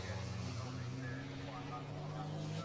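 Racing trucks thunder past steadily on the Snetterton circuit during a British Truck Racing Championship round, a continuous loud engine drone with deep low harmonics and commentary-style talk running over it.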